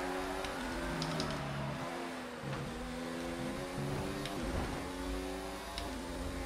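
Formula 1 cars race in a video game, led by a Toro Rosso with a Honda power unit, with a loud continuous high engine whine whose pitch climbs and drops through gear changes, while other cars pass nearby.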